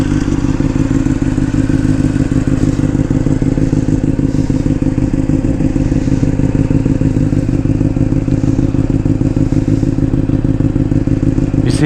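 A 2007 Honda CBR600RR sport motorcycle engine idles steadily after startup, a deep continuous rumble with a slight clattering texture, close and loud, with no talking.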